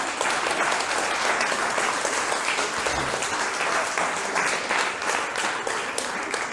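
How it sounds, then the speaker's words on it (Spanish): Sustained applause fills a church as a congregation claps for the King, a dense, steady wash of many hands throughout with no talk. "Denle un aplauso al Rey."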